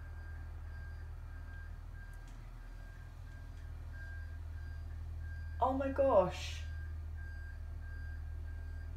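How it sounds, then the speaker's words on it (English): Reversing beeps from a pickup truck with a skip during rubbish collection, heard faint and distant over steady low traffic rumble; a voice exclaims briefly partway through. "It's actually a pickup truck, right? With a skip. Rubbish is being taken out."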